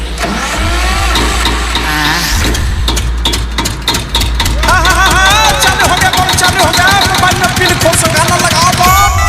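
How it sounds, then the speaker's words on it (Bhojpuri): A generator fed with fuel starts up and runs, a loud low engine rumble with a revving surge, under loud music and singing at a devotional dance event. "अभी हम तेल रह के जनरेटर चालू करते हैं"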